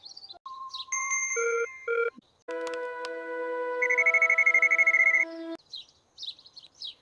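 An electronic phone ringtone plays a bright, repeating melodic pattern, with faint chirps before and after it.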